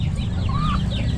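Chickens and fighting roosters at a cockfighting venue, with a few short clucks and calls over a dense background rumble of crowd and farm noise.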